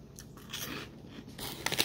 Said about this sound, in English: Crunchy, crunchy, crunchy.